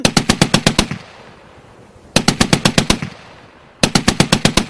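Machine gun fire for a Thai action audio drama: three loud, close bursts of about eight rapid shots each, separated by brief pauses with no voices.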